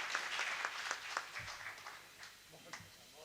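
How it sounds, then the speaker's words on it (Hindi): Scattered applause from the audience at a Hindi kavi sammelan and mushaira welcoming poet Niddhi Pakhi, as soft, thin clapping at moderate distance that gradually tapers off. "एक जोरदार तालियों से आप उनका स्वागत करें"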